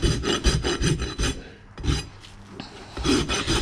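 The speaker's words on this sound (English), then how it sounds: "I want to hold this rasp at about a 45 degree angle." A steel rasp files a pony's hoof toe during a barefoot maintenance trim, making repeated rough scraping strokes in a steady rhythm, with a brief pause midway before the strokes resume.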